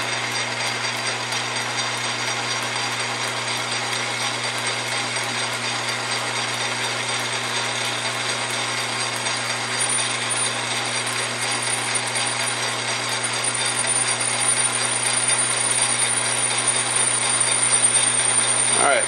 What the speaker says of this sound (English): ream that size out to 1/4 inch